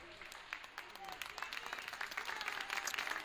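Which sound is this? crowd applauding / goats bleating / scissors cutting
crowd applauding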